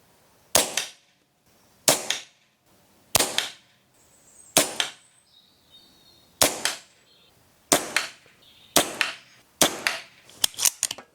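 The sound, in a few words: air rifle shots fired on a tethered air supply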